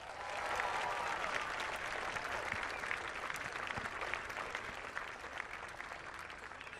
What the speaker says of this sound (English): A big drum roll and a big round of applause as our champion in 2018 joins us